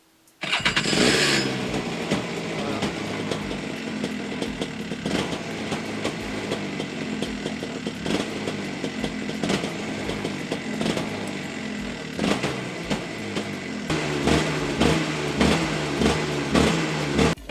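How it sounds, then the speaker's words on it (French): A Rotax 125 motorcycle engine fired up on choke, catching almost at once and settling into a loud, steady two-stroke buzz, with higher revving blips near the end. "avec le starter, ça devrait démarrer quasiment tout de suite"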